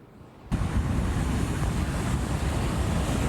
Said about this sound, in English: the surf will be very high tonight, up to 12 feet